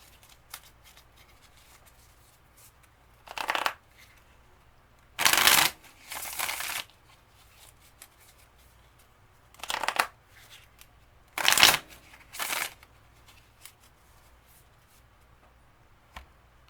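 A tarot card deck is shuffled in several separate bursts of riffling and sliding cards, close and crisp, with quiet pauses between them.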